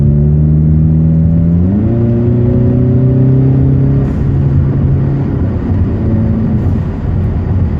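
Heard from inside the car, an engine fitted with new exhaust tips hums with a steady low drone that shifts up in pitch as it revs, then settles into a rougher, loud rumble.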